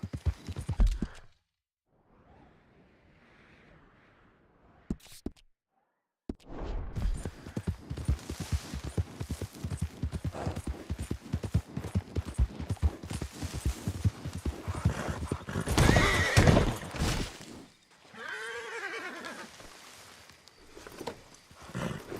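A horse in Red Dead Redemption 2 clip-clops with rapid, rhythmic hoofbeats that build into a gallop, then lets out a loud neigh near the end. A quiet gap breaks up the opening, and there is no talking.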